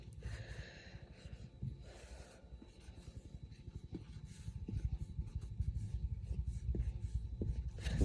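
A pen or marker scratches across paper while a number line is drawn by hand, making steady close scraping strokes with small taps and light breathing throughout.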